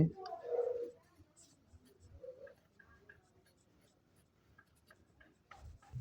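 A pen writing values by hand on paper, faint scratchy strokes and small taps in a quiet room, with a brief voice at the start.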